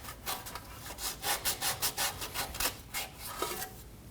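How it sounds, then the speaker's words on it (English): Fine grit sandpaper scrubs an O2 sensor mating surface on a 2.5L Ford Transit Connect in quick, close rubbing strokes, about a dozen rhythmic passes, faint and with no voices. "We're going to clean our O2 sensor mating surface using some fine grit sandpaper."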